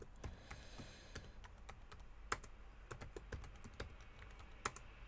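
Keys tapped on a computer keyboard while entering a new password, a quiet, irregular run of close, crisp clicks with a few louder keystrokes.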